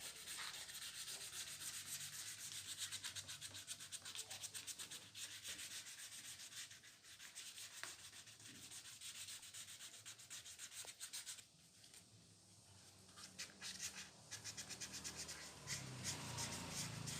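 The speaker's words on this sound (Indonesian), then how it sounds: "Proses pengamplasan ini sangat berarti sekali karena menentukan seberapa bagus hasil akhir dari seluruh proses pengecatan ini." Steady hand sanding of a 1984 Daihatsu Hijet 1000 (S70) car body's paint with 400-grit sandpaper, a continuous close scratchy rubbing with rhythmic back-and-forth strokes and no talking.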